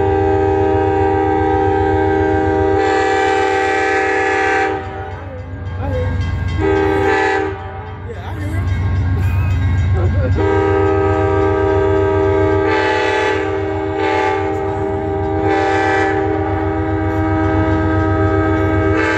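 An Amtrak train led by a P42DC diesel locomotive takes off at full throttle, its engine roaring loud and close while a K5LA horn blasts in several long, separated calls over the rumble of the passing cars.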